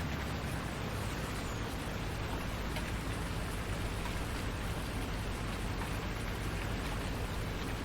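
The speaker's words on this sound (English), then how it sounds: "we got snow coming down, we got rain, probably sleet, all kinds of stuff." Steady rain mixed with sleet in Farming Simulator 19 at a logging site, an even, continuous hiss of falling precipitation without breaks, fairly quiet and with no voices over it.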